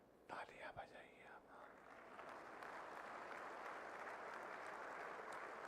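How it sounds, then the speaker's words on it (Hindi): Audience clapping at a government ceremony where appointment letters are handed out, rising after a few brief voices and sounds at the start, then settling into steady, fairly quiet applause. "तालियां बजाइए।"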